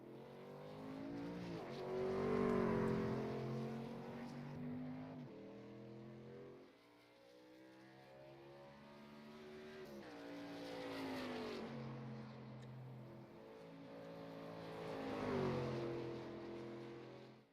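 A racing truck engine in a racing video game drones steadily as it leaves pit road, its pitch rising and falling through gear changes and revs, with a continuous smooth tone and no talk.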